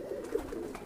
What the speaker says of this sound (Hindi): ये मेरे घर की उड़ी हुई कबूतरी है